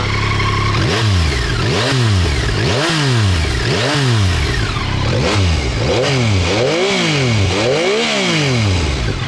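A 2021 Yamaha MT-09 three-cylinder motorcycle engine revs repeatedly in loud, rising and falling sweeps, about eight bursts in a steady rhythm, close and with no talking.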